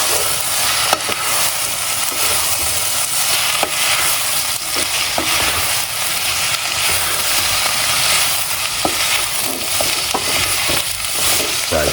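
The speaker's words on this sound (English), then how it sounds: "Fry it up." Homemade gnocchi frying in a pan, a loud, close, continuous sizzle with faint stirring scrapes and small pops, no talk.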